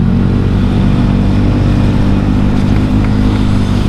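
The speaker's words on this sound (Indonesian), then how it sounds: "untuk beli knalpot ini karena suaranya enak" Honda Scoopy motorcycle fitted with an aftermarket exhaust, revving with a loud, steady low rumble that stays close and continuous throughout, with no talk over it.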